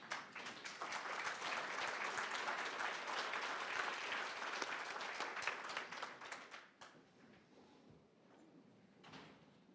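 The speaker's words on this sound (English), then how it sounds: "give him an applause." A conference audience at the Grand Hotel Reykjavik applauds as a speaker takes the floor, a full round of clapping that runs for about seven seconds, then thins out to a few scattered claps in a quiet room.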